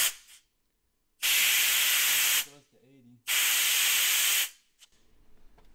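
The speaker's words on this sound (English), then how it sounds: "See if we get 70, 80 psi through a blowgun." Compressed air blasts from a blowgun on an air hose in a farm workshop: two loud, sustained hissing bursts of about a second each, separated by quiet, with faint clanks between.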